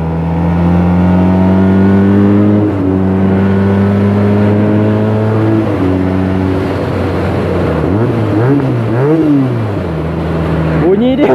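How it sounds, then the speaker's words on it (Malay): A Benelli TNT300 300cc parallel-twin motorcycle engine idles with a steady drone, then revs up and down in several quick throttle blips, loud and close. "Bunyi dia macam 4-in-line walaupun dia 300cc dan dia tak silap aku parallel twin"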